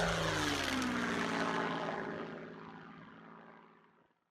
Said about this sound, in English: The aircraft clearly has four engines and twin tails